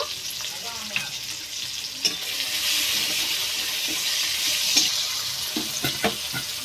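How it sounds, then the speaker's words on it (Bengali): Chopped tomatoes with salt frying in a pan for a mung dal curry, with a loud, steady hiss and sizzle broken by several sharp spatula scrapes and clicks, close and with no talking. "এইবার দিয়ে দেব টমেটো কুচি। টমেটো যাতে গলে যায় তার জন্য লবণ দিয়ে দেব।"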